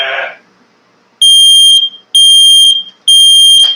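A kitchen smoke alarm set off by burnt toast blares in three loud, piercing electronic beeps of equal length, evenly spaced, following a short burst of noise and a pause.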